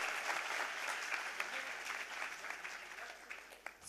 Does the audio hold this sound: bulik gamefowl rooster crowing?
no